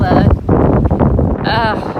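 Gusty wind at Sakonnet Point buffets the microphone in loud, uneven rumbling bursts, with a brief higher-pitched sound near the end.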